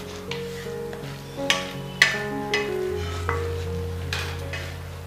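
Milk goes into amaranth flour roasting in a pan for rajgira shiro, raising a close frying sizzle with scraping stirring strokes, while a soft tonal hum sits underneath.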